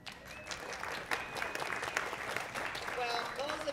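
An audience at a country dance funfest gives steady applause that continues for several seconds, with faint crowd noise and a few whistles mixed in, heard at a moderate distance.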